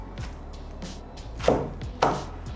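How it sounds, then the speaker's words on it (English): Knife slicing onions in half for sweet pickled red onions, with several crisp chops landing one after another on a board, the two strongest cuts clear and sharp over faint kitchen background. "Cut them in half."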